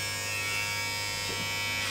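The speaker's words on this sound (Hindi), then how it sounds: "तो ट्रिमर स्टार्ट हो गया" An electric hair trimmer runs close by, giving a steady loud buzzing hum with a strong steady tone and a small shift in texture near the end, with no talking.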